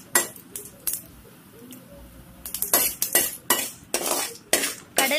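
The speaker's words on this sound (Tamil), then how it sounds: "கடலைப்பருப்பு டோஸ்ட் ஆகிற வரைக்கும் நல்லா வறுத்துக்கோங்க" Chana dal and mustard seeds roasting in a pan, with repeated scraping and stirring clatter of a utensil against the metal, a soft dry crackle underneath, the strokes growing busier and louder toward the end.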